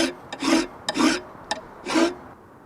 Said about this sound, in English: That's the filing done.